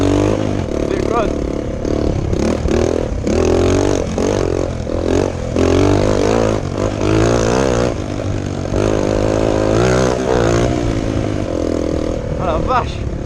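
A trail motorcycle revs hard while riding off-road over bumps, its engine climbing and dropping in pitch through repeated throttle bursts, loud and close, with people talking over it.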